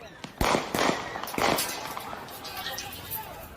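Several sharp gunshots crack in quick succession outdoors during a street riot, loud and close, then fade into a noisy background wash.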